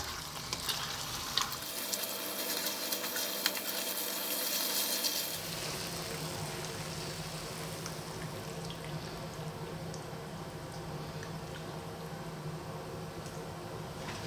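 Sausage and tomato pasta with a little chili sizzles and spits as it is tossed around a hot pan, a steady close frying hiss with a brief louder burst of stirring early on, no voices.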